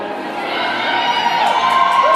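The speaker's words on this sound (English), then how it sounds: "we've got Kalina's dad excited behind us, cheering her on" A crowd cheers and whoops steadily at a girls' varsity basketball game, Jefferson vs Osseo Park, with one excited father's voice rising among the cheers close behind and loud throughout.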